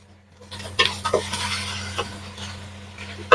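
A spoon stirs coriander into prawn biryani masala in a pot: soft scraping with a few clinks against the metal, over a faint sizzle and a steady low hum.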